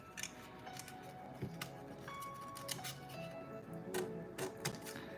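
Scissors snip steadily through printed paper pages for a miniature Harry Potter herbology greenhouse, a series of crisp close cuts with small rustles between them.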